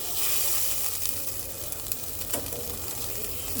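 Pre-fried koi fish full of roe sizzling in a pan, a broad continuous hiss of hot oil with faint stirring scrapes, close and steady, no talk.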